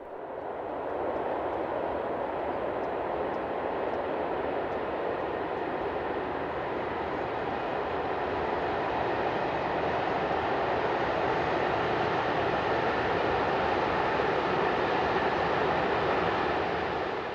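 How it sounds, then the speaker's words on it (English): A Euro Cargo Rail G2000 diesel locomotive hauls a westbound train of hopper wagons across a bridge over the River Rhine, a steady broad engine drone and rolling rumble that holds even and continuous, heard from a distance with no voices. "Our final scene shows one of Euro Cargo Rail's G2000 locomotives crossing the bridge with a westbound train of hopper wagons."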